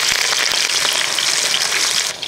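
Garlic, ginger and green chillies sizzle and crackle in hot oil after mustard seeds have popped, stirred while making a Kerala-style dates and grape pickle; a steady, loud, dense frying hiss runs throughout with no talk.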